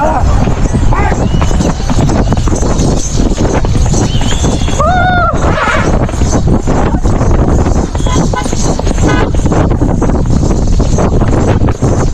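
Horse hooves clip-clop through a recreational horse ride, steady and fairly loud over wind noise, with a whinny-like call midway and people chatting throughout.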